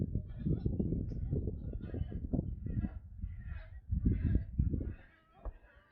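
Geese and other fowl honk and call repeatedly at Wakodahatchee Wetlands, a loud, near flock cluttering the whole stretch before fading toward the end, with a voice talking faintly underneath.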